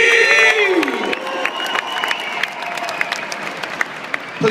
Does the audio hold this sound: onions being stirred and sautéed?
no